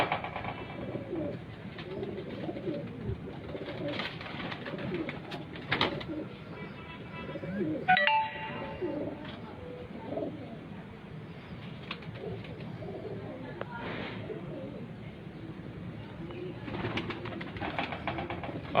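Pigeons coo softly in a rooftop loft, low murmuring calls repeating on and off while someone talks throughout.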